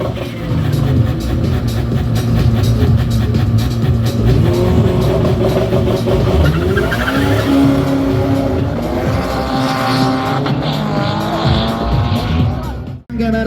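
Drag race cars at a Slovakia Ring power festival, among them a Mercedes V8 biturbo, roar loudly off the line with rising engine notes and tire squeal, the sustained howl building over several seconds before cutting off sharply.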